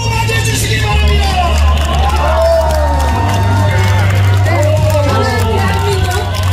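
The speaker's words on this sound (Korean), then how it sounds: "서울 시민 여러분 큰 함성과 박수로 맞이해 주시기 바랍니다" A Seoul crowd at a Korean presidential campaign rally cheers and claps for the arriving candidate, a dense sustained roar of voices and applause with a loudspeaker voice carrying over it.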